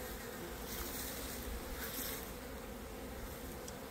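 Many honey bees buzz around their hives in a dense, continuous drone, a busy hum that stays steady and fairly faint throughout.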